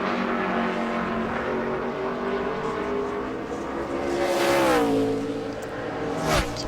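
A NASCAR Sprint Cup stock car howls through a qualifying lap at Loudon, a loud sustained engine drone that dips and rises through the corner, alone with no talk over it.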